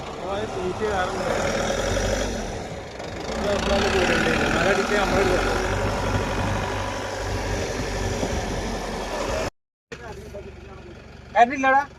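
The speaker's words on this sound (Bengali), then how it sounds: "ছোট গাড়ি চলে যাচ্ছে" A small vehicle engine running and pulling away at a jungle-edge unloading spot, a steady mid-pitched drone that swells then fades, with voices talking over it and a brief dropout near the end.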